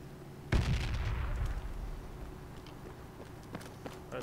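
A grenade explodes in a military squad shooter video game with a sudden loud thump, followed by a rumbling decay and scattered distant shots.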